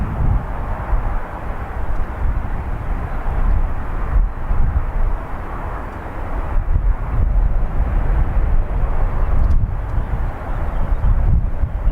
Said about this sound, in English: That was a 777 from LAX to Zurich.